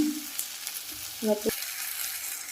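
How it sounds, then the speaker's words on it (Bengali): Mutton sizzling as it is sautéed with chopped green chillies in a pan, a steady frying hiss with a brief clatter of stirring midway, close and moderately loud. "এবার সব আমরা কষিয়ে নেব সুন্দর করে। লঙ্কা কুচিগুলো দিয়ে দিলাম।"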